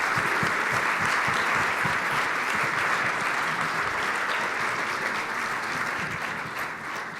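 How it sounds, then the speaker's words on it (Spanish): An audience at a conference panel on digital investment applauds a keynote speaker, strong continuous clapping that tapers slightly at the end. "el darte un fuerte aplauso como un reconocimiento"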